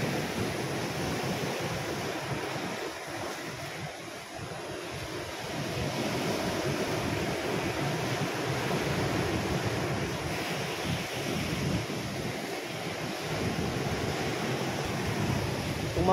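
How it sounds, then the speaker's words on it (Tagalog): Big sea waves break on a shore in Libya under strong wind, a continuous loud roar of surf with heavy wind buffeting the microphone, swelling and easing over about sixteen seconds. "Ang lakas ng alon."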